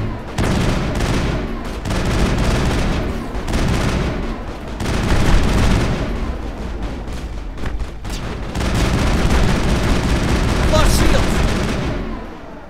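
Rapid gunfire from the Mass Effect video game, with dense, overlapping bursts of shots and booms running almost nonstop for about thirteen seconds, loud and close throughout.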